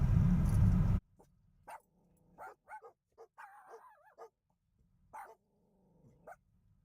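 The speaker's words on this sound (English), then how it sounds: "Dogs will start barking, I apologize." A burst of loud noise, then several dogs barking and yipping in short, scattered bursts at moderate distance, with quiet gaps between.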